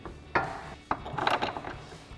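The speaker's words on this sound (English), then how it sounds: "I'm just going to hand thread in my top 2 bolts" Bolts hand-threaded into the top shock mount of a 2024-2026 Mustang GT during a lowering spring install: a few sharp metallic clicks and short ratchety scrapes, close and fairly loud, with no talking.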